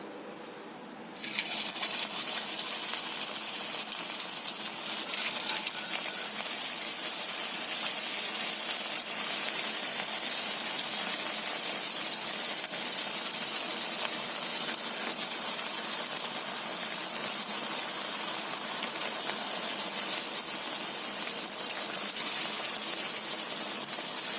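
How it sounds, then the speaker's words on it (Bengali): Snacks dropped into hot mustard oil burst into a loud, broad sizzle after a brief quiet start, then keep up a steady crackling hiss for the rest of the time, with no talking. "তো বন্ধুরা তেলটা গরম হয়ে গেছে আমি তেলের মধ্যে ছেড়ে দেবো"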